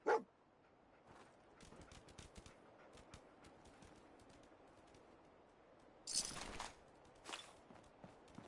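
Dogmeat, the dog in Fallout 4, gives a sharp bark at the start, then footsteps patter quietly through a faint ambience, with louder bursts of movement near the end.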